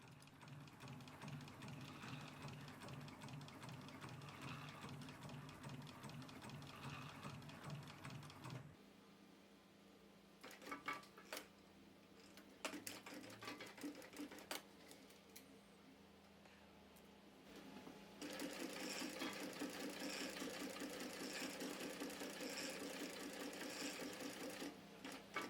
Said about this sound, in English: We also stitch the bottom piece.